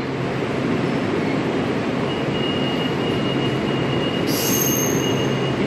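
An Amtrak Northeast Regional train rushes through Stamford station with a loud, unbroken rumble of wheels on rail and a thin high squeal near the end, close and steady throughout.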